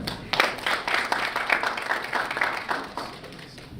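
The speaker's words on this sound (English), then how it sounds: "Please, another round of applause for them." A conference audience at an infrastructure investment session applauds, a dense patter of many hands clapping steadily for a few seconds before thinning out slightly.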